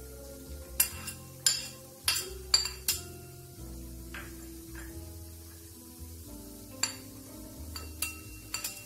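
Metal utensils clink and scrape against a pan as onion and paprika are stirred and cooked for yakiniku, with a run of sharp taps early on, scattered clinks later, and a low steady sizzle-like bed underneath, no talk.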